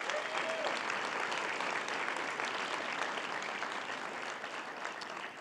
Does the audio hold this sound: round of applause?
yes